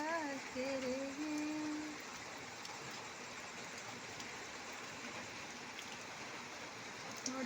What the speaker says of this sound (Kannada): ನೋಡಿ, ತುಂಬ ಮಳೆ ಆಗ್ತಾ ಇದೆ.